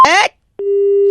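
A phone line goes dead after a call is cut off: a brief burst of speech, a short silence, then a steady, loud disconnect tone holding alone to the end.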